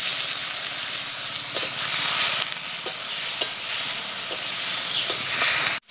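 Spice masala with chopped tomato and a splash of water sizzles and fries steadily in a pan, with scraping stir strokes at irregular intervals, close and loud, no talking.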